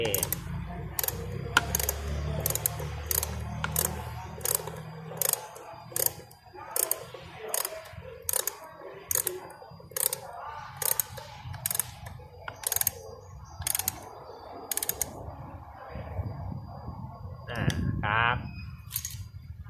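A plastic air filter cover is tightened on a Yamaha Mio 115 scooter, giving a run of sharp, evenly spaced ratcheting clicks close by, with pauses between bursts and some talk in the background.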